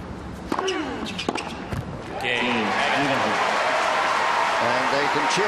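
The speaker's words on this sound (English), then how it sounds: "And they can cheer now, all right." A tennis crowd at the 2004 Cincinnati final between Agassi and Hewitt erupts into loud, sustained cheering and applause after a few bounces and thuds, with a commentator talking over the start.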